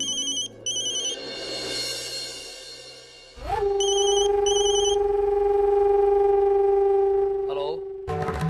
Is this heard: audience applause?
no